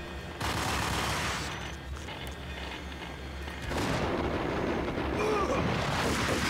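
Gunfire from Max Payne's guns in the game Max Payne, a dense, continuous roar of shots and booming impacts with a louder burst near the end.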